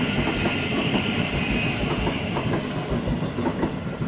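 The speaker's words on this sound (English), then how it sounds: "That is 1 Whiskey 47, the 1610 Thameslink service to Brighton." A Thameslink passenger train runs past Bedford station on the Midland Main Line, a steady loud rumble with rhythmic wheel clatter over the rail joints and a faint high squeal, heard close with no voices.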